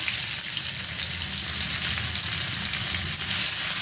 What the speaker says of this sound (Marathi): कढीपत्ता टाकून झाले की आलं आणि मिरचीची पेस्ट केल्या बघा, जाडसर पेस्ट आहे, ती पण टाकून घ्यायची